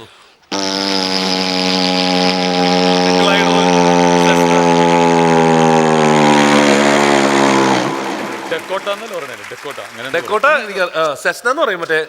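A voice imitates an old single-engine airplane with a loud, sustained droning hum that holds steady for several seconds, then breaks into wavering, sputtering tones as it winds down.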